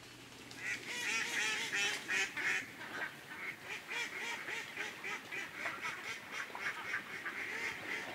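A dense flock of ducks on a Taiwanese farm raised for ginger duck stew, honking and quacking continuously and loudly close by, many overlapping calls with no talk.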